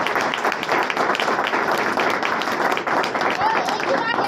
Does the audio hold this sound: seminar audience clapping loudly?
yes